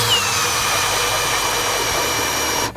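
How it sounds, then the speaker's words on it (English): A power ice auger drills a hole through thick lake ice early in the ice-fishing season, a loud continuous high-pitched whine and grind that cuts off at the end. "As I drill right now, you'll see there is lots of ice."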